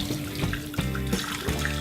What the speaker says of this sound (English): what we're going to do is put some hot water, because we want to heat this up